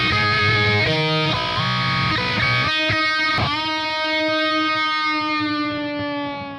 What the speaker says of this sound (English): So technically you could play the solo by just doing a big bend at the end like this.